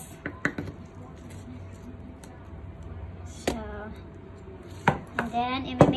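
A knife cuts through a red cabbage on a board, giving a few sharp crunching chops, the last ones louder and longer as the head splits in half; close and clear, with no talk over it.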